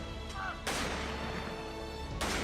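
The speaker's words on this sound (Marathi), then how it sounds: "यावेळी त्यांना सतरा तोफांची सलामी देण्यात आली" Guns fire a military salute at a state funeral, with two heavy, broadband blasts that each roll into a long, rumbling boom. The sound is fairly faint and distant.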